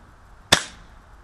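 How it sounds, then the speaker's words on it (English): A single sharp, close crack of a KJWork KC-02 gas blowback airsoft carbine shot on a gas magazine, a sudden snap followed by a brief fading tail. "we're gonna pop hopefully 5 rounds through this"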